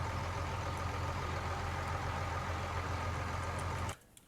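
Tractor engine idling in a farming simulator game, a steady low droning rumble that holds loud and even for about four seconds before cutting off abruptly to near silence.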